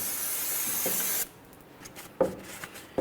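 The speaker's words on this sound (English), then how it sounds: "Let's give it a rinse." Water spray rinses a cleaned steering knuckle and axle splines from a 2004-2010 Chevrolet Cobalt front hub, a steady close hiss for about a second that cuts off, followed by a few faint drips and taps.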